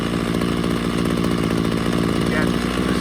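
A Ryobi CS26 trimmer engine idles with a steady, buzzing two-stroke drone, loud and close, holding an even pitch throughout.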